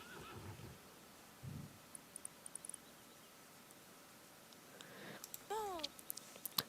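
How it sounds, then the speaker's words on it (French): Horses in the Star Stable Online game whinny several times, a low snort early on and a pair of descending neighs near the end, moderately loud over a quiet ambient game background with light clicks. "on a des chevaux qui s'enfuient"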